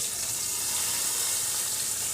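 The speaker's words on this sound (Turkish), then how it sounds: "Bu şekilde kızartıyorum." Red mullet fries under a lid in a covered pan, giving off a continuous soft hiss and sizzle that stays even for the whole short stretch, with no voices.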